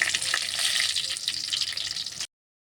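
Chillies frying in hot oil right after mustard seeds have popped, for a quick Kerala-style rice accompaniment: a loud, steady close sizzle with no talk, cutting off abruptly near the end.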